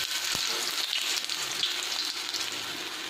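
Besan-coated white chickpea kababs fry on a tawa over low heat, giving a steady close sizzle with faint crackles and no voices.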